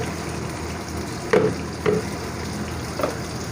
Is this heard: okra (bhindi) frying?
yes